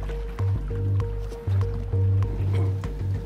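An underwater reef-finding robot is lowered from a boat into the sea, giving brief splashes and sloshing water over a steady low engine-like hum with repeating tonal pulses.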